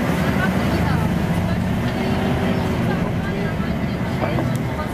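Steady low engine rumble and road noise inside a moving VHH bus on a historic transport day, constant and loud throughout, with a voice talking over it.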